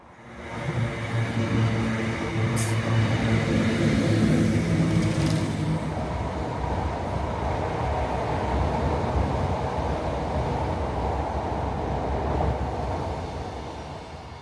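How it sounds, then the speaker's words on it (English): A ScotRail passenger train rolls along, a steady low rumble of wheels and carriage noise filling the clip, with a brief higher whine early on and a continuous rattling drone throughout, close and constant with no voices. "we shall be moving on to the penultimate station by train, which is the 13:26 ScotRail service to Balac"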